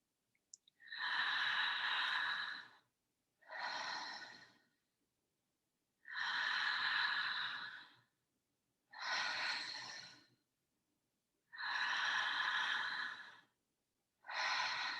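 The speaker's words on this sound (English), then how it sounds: "Breathe in. Breathe out. I want you to slow the breath down." Slow, deep breaths during a breathwork session, long airy inhales alternating with shorter exhales, each separated by a pause, close and clear with no talking.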